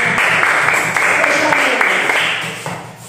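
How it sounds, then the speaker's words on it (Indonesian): A class of students in a school classroom gives a short round of applause, dense clapping from many hands that holds steady for about three seconds before fading, with a little talk mixed in. "Berikan tepuk tangan dulu."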